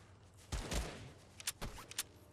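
Gunfire in Fortnite sounds in faint, sharp bursts: a pair of louder cracks followed by several quicker, thinner shots, all quiet and somewhat distant with no talk.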